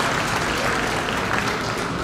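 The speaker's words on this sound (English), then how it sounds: "I think I ought to give the guy a round of applause" A crowd at a junior champion livestock show gives the photographer a round of applause, loud dense clapping that holds steady and close for the whole stretch.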